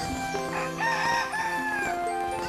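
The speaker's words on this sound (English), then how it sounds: "Crowing is how Rooster says good morning." Rooster crowing, one loud, close cock-a-doodle-doo call with a rising then drawn-out falling tone, alone without talk.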